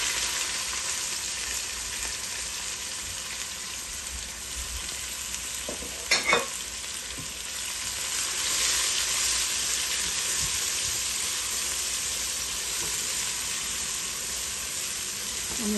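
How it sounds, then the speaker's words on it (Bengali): Onion frying in hot oil with whole spices for a meat and potato bhuna, a steady close sizzle and hiss with a brief clatter of stirring partway through. "একটা পেঁয়াজ দিলাইলাম, দিয়া নাড়াচাড়া করে দিলাইলাম।"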